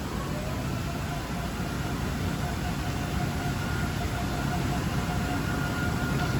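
A saw with a 16-inch blade spinning at 1600 RPM and feeding at 6 feet per minute grinds through a cut in a steady, dense, unbroken roar.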